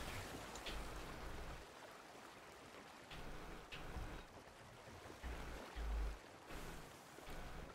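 A sailing ship moves across the sea in the video game Sea of Thieves, with continuous rushing water and wave wash, brief low thumps, and occasional creaks over a steady roar.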